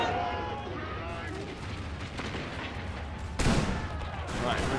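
Massed rifle volleys crackle in a Mahdist Rebellion strategy game as companies open fire: a dense, continuous rattle of shots with a louder burst near the end, over a spoken voice.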